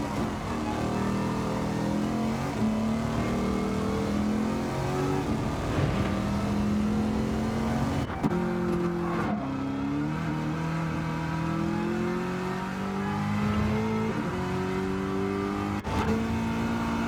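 Race car engines revving on the Bathurst track in Gran Turismo 7, with continuous whining engine tones rising and falling through the gears, several cars layered together, steady and loud across the whole stretch.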